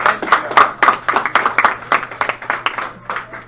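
A small group claps steadily after a demo presentation in a meeting room, the sharp, fairly close claps coming in quick, uneven bursts for several seconds with faint voices nearby.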